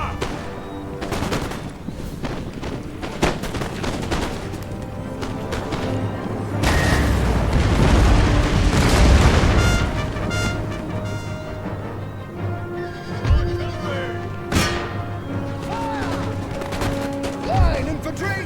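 Musket volleys from line infantry in a Total War battle crackle out in dense, overlapping bursts, with a heavier rolling fusillade in the middle and scattered sharp shots later, while voices call out over the gunfire.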